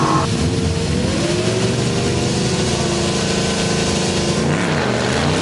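A drag racing funny car at a Bug Jam drag strip event roars loudly and steadily as it powers down the strip, a sustained, close engine blare with no break.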